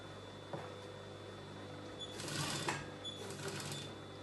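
Sewing machine stitching fabric for a circle skater dress, a short click followed by a soft run of stitching that swells and fades, close but fairly quiet.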